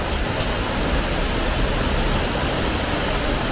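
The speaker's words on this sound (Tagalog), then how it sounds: "Tunog pa lang ng tubig nakakaantok na." A waterfall in Hong Kong Park pours steadily, a dense, even rush of falling water that stays loud and unbroken throughout with no voices over it.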